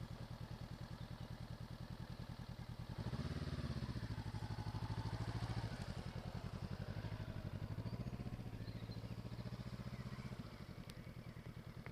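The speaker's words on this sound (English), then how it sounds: "U-turn when you're ready." Motorcycle engine idling and putting along as a rider makes a slow U-turn on a test centre circuit, a steady close throb that swells briefly with a little throttle and settles again, without talk.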